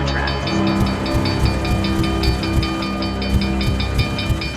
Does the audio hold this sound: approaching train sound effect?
yes